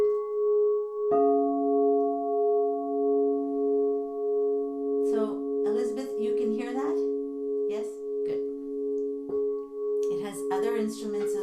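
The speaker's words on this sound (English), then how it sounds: "It has instruments like crystal bowls, like that sound like this." Crystal singing bowls hum with a sustained, layered tone that swells and holds across the whole stretch, while someone talks softly over the ringing in short phrases.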